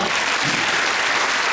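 A lecture audience breaks into loud applause, a dense, continuous burst of clapping from many hands that fills the room for a brief moment.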